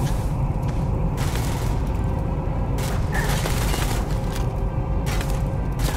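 Dense, continuous gunfire in the video game Starfield: a loud, steady barrage of shots and booms with mechanical clatter, heard without talk.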